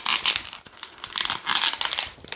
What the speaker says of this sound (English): So hold these together and twist them together at the base.